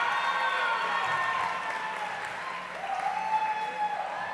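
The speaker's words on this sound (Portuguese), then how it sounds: "Representante da obra, uma salva de palmas," Audience applause at a music festival award ceremony, a sustained wash of clapping from a crowd at moderate distance, slowly fading over several seconds with faint tonal sounds beneath.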